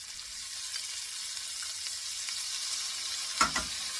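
Sun-dried tomatoes, green onions and minced garlic sizzle in a pan for a Tuscan salmon dish, a steady close hiss with a sharp clatter near the end.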